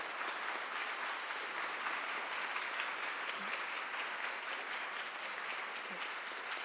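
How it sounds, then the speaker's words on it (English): An audience at a talk gives steady, even applause that fills the hall without a break, all at a fairly distant, uniform level. "Let's give another round of applause for Dr."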